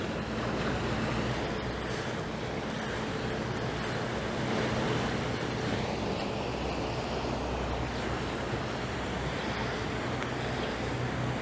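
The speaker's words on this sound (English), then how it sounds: "here comes the water taxi back, empty" A water taxi boat passes on Toronto's waterfront, heard as a constant wash of water and engine rumble mixed with wind noise, steady throughout.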